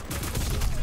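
Gunfire in the online shooter Black Squad: a short, dense burst of broadband shots, loud and close, with faint voices under the firing.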